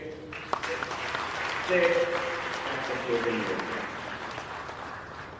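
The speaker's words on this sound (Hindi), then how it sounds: "तो इसके लिए आप सब लोग जोर से तालियां बजाइए" Audience applause at a smart AI glasses giveaway event, a steady wash of clapping running throughout, with voices audible over it.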